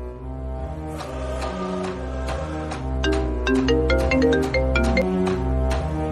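A mobile phone rings on an outgoing call as a clear, repeating electronic ringtone melody of bright tones over a low steady hum, growing slightly louder midway.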